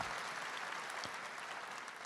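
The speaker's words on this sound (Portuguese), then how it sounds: "Vamos aplaudir a fé de um homem de Deus." A church congregation applauds during a Catholic Mass, a steady, dense wash of clapping hands that holds evenly for about two seconds, moderately distant and without talk.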